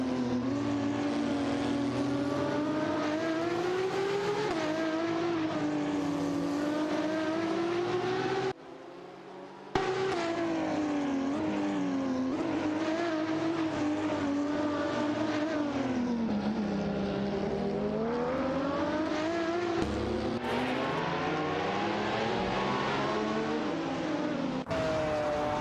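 Race cars roar through a video game race with sustained high-pitched engine whine that rises and falls through gear changes and passes, one brief gap in the sound midway, no talking.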